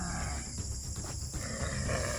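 A water buffalo (carabao) gives low, rough grunts outdoors, close and loud, mixed into heavy continuous background noise.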